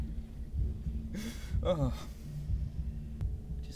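A thumping heartbeat effect from the video game Bendy and the Ink Machine pulses low and steady under a player's brief exclamation and a murky ambient game hum.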